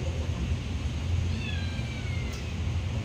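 A kitten crying, with a faint, thin, rising meow heard once over a steady background hiss and low rumble.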